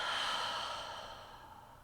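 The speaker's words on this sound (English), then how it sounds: "Take a deep breath in. Exhale." A deep breath drawn in and slowly let out during a guided meditation, a soft airy sigh that starts fairly full and fades gradually toward the end, close and alone with no talking.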